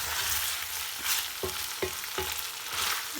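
Pork sizzling in its own rendered fat in a pan for Filipino dinuguan, a steady broadband hiss of frying with several soft clacks of stirring spaced about half a second apart, close and continuous with no talking.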